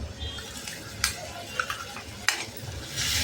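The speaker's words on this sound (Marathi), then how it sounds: "तिखट छान परतून घेऊया." Chili powder sautés in a pan with onion, giving a steady sizzle broken by several clinks and scrapes of a spoon stirring against the metal, close and fairly loud.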